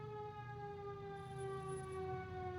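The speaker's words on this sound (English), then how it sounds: "I'm going to let that siren go by." A siren wails steadily throughout, its tones holding with slight pitch drift over a constant low rumble of traffic, fairly distant and continuous, with no voices.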